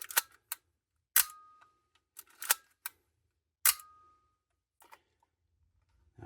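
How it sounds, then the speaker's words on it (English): A Nikon F3 SLR camera shutter fires with sharp mechanical clicks and snaps, several in a sparse irregular sequence, close and crisp against near silence. "There goes the shutter."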